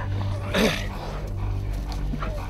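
A hunting dog confronting a wild boar lets out a single sharp, close bark-yelp near the start, followed by whimpering and low scuffling noise.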